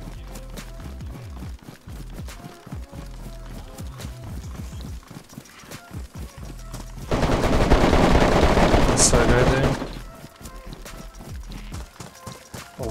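Dense bursts of gunfire from the survival video game DayZ, rapid overlapping shots swelling into a loud, sustained volley after scattered earlier cracks, then tapering off.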